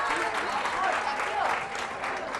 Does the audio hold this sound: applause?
yes